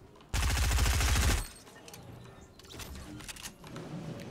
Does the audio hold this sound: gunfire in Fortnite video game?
yes